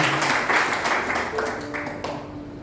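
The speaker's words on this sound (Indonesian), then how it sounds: "Tepuk tangan untuk mereka yang dari Bitung." A church congregation applauding during an Indonesian sermon, a broad steady wash of clapping throughout with voices mixed in beneath it.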